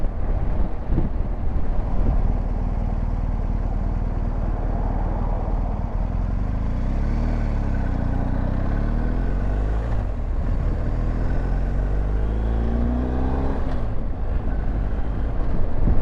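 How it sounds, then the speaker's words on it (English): Steady, loud wind roar buffets the microphone while riding a BMW GS motorcycle with the standard screen set low, a continuous low rumble of engine and air with no talk. "that wind is definitely louder with the standard screen in the low position than the rally screen"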